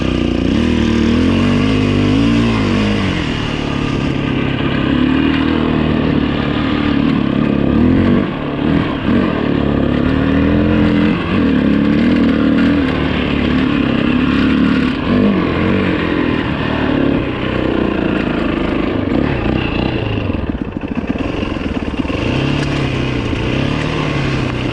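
A 2008 Yamaha WR450F dirt bike rides a leaf-covered trail, its engine droning loud and close throughout, rising and falling with throttle changes and some clattering over rough ground.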